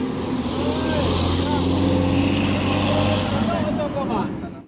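A tour bus engine rumbles steadily at close range as it pulls away in the early morning, loud and continuous before easing off at the end, with someone talking over it.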